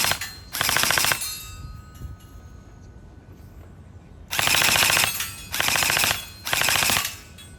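An M4A1 gel blaster fires four rapid full-auto bursts at a target 30 feet away, each burst a loud, fast mechanical rattle lasting under a second, separated by quieter pauses.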